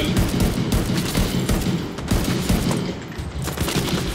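In The Division 2 video game, a deployed turret and other guns fire in a loud, dense fusillade of rapid overlapping shots for several seconds.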